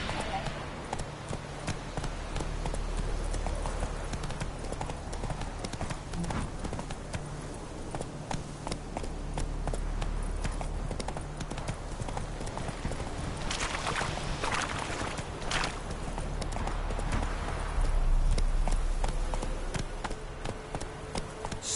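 Roach, a horse in The Witcher 3, gallops with steady rhythmic hoofbeats that hold close and clear for the whole stretch, with a voice speaking over the hooves at times.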